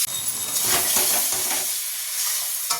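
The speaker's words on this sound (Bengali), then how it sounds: "চলো চিকেন দুটো দিয়ে কষাবো।" Chicken pieces sauté with spices in a hot pan, giving a loud, steady hiss and sizzle with brief stirring scrapes, heard alone.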